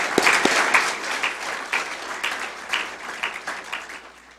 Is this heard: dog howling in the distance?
no